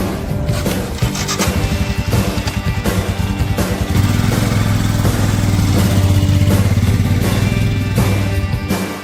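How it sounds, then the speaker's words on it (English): A motorcycle engine runs loud and close with a steady droning hum and a rough, buzzing texture that holds throughout. "Johnny Sparks over there on the motorcycle"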